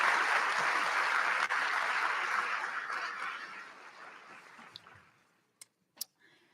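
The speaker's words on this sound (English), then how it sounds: "Let's take a moment and give a round of applause for these individuals." Audience applause at a University of Western States graduation ceremony for the class of 2024, a broad sustained clapping that gradually fades away, followed by a few isolated sharp taps near the end.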